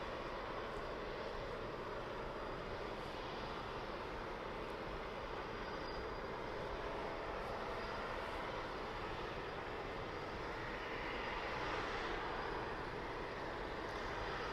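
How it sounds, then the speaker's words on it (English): Wizz Air Airbus A321neo airliner on approach at Birmingham Airport, a faint, steady jet drone with a broad hiss that lingers without pause, heard from a distance. "A321neo on approach."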